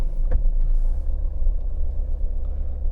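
Mahindra Thar pulling away, a steady low engine rumble close by with faint road noise and a brief tick near the start.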